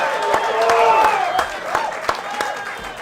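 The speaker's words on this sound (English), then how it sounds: "Give a round of applause once again." Audience applause at a live radio show broadcast from a sports bar with football fans, a steady wash of clapping with a few sharp hand claps standing out and a voice speaking over it.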